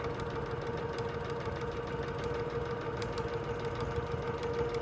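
A sewing machine stitches a 3/8 inch seam on a messenger bag with a continuous, fast, mid-pitched whir and fine, regular ticking that runs steadily throughout at moderate volume.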